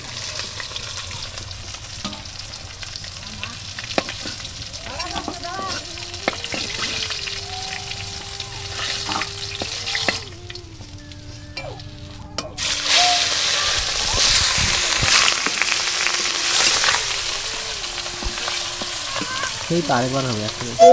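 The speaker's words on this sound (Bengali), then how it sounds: "আমার মাছ ভাজা হয়ে গেছে আমি মাছগুলো তুলে নেব" Steady sizzle of rohu fish frying in oil on a clay stove runs throughout, with clattering utensil sounds and scraping near the middle, louder in the second half.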